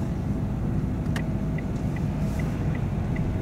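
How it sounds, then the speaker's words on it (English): A car pulls away slowly during a driving lesson, a steady low engine rumble with a few faint ticking clicks, inside the cabin, with no talk. "try and keep the car going nice and slow"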